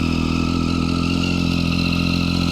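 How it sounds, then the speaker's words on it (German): A Triumph Street Triple 675 motorcycle engine runs at a steady, close idle, with an even throbbing pulse and no voices over it. "Die sollte recht zügig anspringen."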